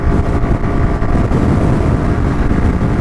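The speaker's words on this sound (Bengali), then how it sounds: "কঠিন বাতাস" Strong, steady wind roaring across the microphone while riding a motorcycle on a straight, undulating road, a dense low rumble with gusty buffeting, loud and continuous.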